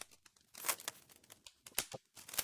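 A plastic bag is ripped open by hand instead of unzipped, giving sharp bursts of tearing and crinkling in uneven bursts, close and fairly loud, with no voices.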